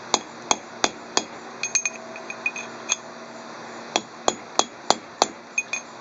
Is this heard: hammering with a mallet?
yes